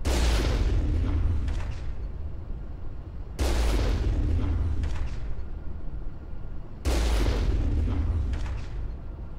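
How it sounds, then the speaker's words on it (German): Gunfire at objects in the video game Mass Effect, heard as three loud booming blasts spaced a few seconds apart, each decaying into a rumbling tail with no speech over them. "Wenn ich hier auf die Dinger schieße"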